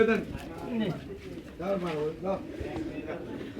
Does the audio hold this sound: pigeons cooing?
yes